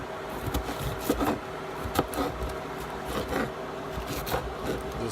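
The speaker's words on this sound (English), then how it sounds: "Cut them into much smaller pieces." Knife chopping green peppers into small pieces on a cutting board in a home kitchen, a run of faint, irregular knocks and scrapes over a steady low background hum.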